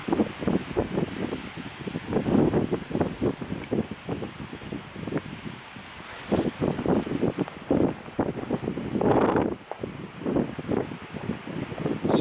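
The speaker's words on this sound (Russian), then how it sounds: "Сегодня достаточно ветрено." Gusty wind buffets the microphone in repeated rough blasts over a lentil field, roaring and rustling close up with brief lulls between gusts.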